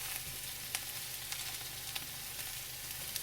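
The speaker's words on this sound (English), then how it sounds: "Garlic hasn't got brown yet." Garlic frying in a pan for chicken Alfredo, a quiet, steady sizzle with small crackles and pops scattered throughout.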